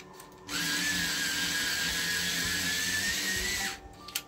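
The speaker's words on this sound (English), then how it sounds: "Give them a good old sharpen." Jarlink electric pencil sharpener grinding a Prismacolor colored pencil: one steady, close whirring burst that lasts about three seconds and then cuts off, with quiet before and after.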